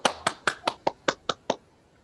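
About eight sharp, evenly spaced hand claps ring out close and alone at a steady pace, then stop, as an audience welcomes a speaker at a writing panel.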